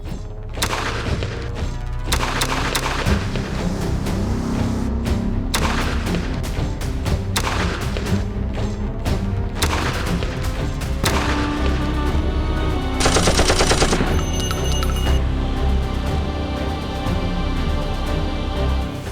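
Gunfire rings out during a military bunker assault exercise using fire and move: bursts and single shots, some rapid automatic strings, echoing loudly across open ground in an irregular, overlapping rhythm, with no voices.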